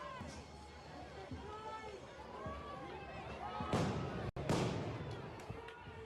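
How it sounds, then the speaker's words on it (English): A large firework blast, like an M80, goes off outdoors near the East Precinct: a sharp, loud burst and a second crack cut through ongoing voices. "Some kind of large firework or something."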